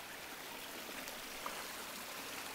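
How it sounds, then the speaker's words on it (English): Meltwater running off through a stream in Echo Basin, a moist mountain basin, produces a soft, steady broadband rush, faint and distant, with no voices. "A lot of water running off."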